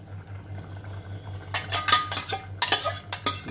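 Cooked mutton korma goes into a metal pot for aloo mutton rice, with a few sharp scrapes and clinks of a spoon against the pot over a low hum and no voices.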